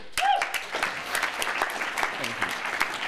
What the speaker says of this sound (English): If I give a round of applause.